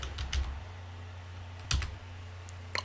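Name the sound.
typing a search on a computer keyboard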